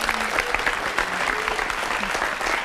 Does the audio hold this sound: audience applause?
yes